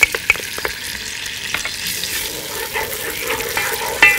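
Minced garlic sizzles and fries in hot oil in a home kitchen, a steady close crackle with a few sharp pops and stirring clicks, no talking.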